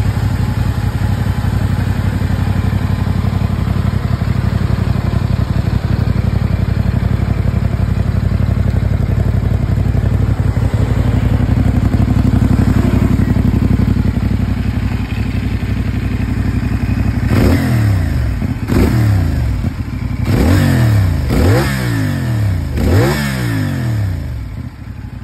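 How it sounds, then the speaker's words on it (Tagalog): A CFMoto motorcycle engine idles steadily up close, then is blipped through several sharp revs in quick succession, each throttle burst rising and falling back toward idle. "pakinggan natin yung rev niya"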